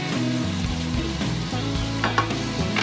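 Meat sizzles steadily in a coated pan as a wooden spatula stirs it, with a close, continuous frying crackle and soft scraping and no voices.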